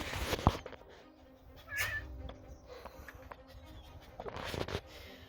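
A cat trapped inside a cabin meows once, fairly faint and a little distant, amid quiet room noise with a few soft knocks and rustles.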